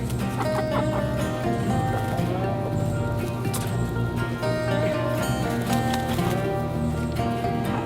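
Backyard chickens cluck and murmur close by in a steady stream, with a few higher calls rising over the flock while a person speaks softly among them.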